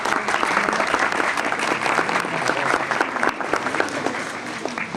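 A crowd at a teachers' training session applauds a speaker's introduction with full, steady clapping that stays loud for the whole five seconds, a few voices sounding faintly under it.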